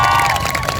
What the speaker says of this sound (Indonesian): boleh minta tepuk tangannya